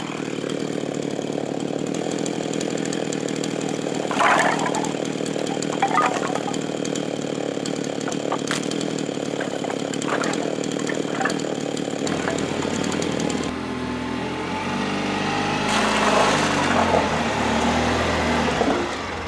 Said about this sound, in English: it's a good thing I like cutting firewood